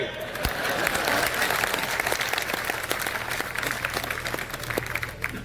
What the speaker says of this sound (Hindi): इस पे ताली बजाओ रे।